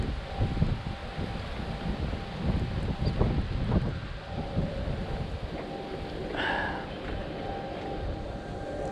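Strong wind during outdoor fishing in cold, windy weather with a storm approaching, a loud rushing roar buffeting the microphone in uneven gusts, with a brief higher-pitched sound midway.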